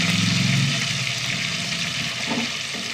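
Small onions, garlic and a chili fry in a pan with oil, giving a continuous loud hissing sizzle with a low rumble underneath and no voices.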